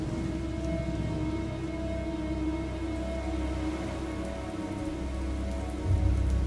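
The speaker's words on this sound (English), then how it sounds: "You want me to go out in this rain?" Steady rain pours down in the Haven Moon video game, a dense continuous patter on surfaces with a low rumble swelling near the end, no voices.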